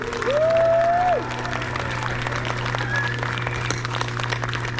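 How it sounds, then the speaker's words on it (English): Scattered clapping from a small audience at an international jousting tournament in Arundel, under a steady electrical hum, with a brief whistling tone at the start. "Round of applause for all 4 of our competitors."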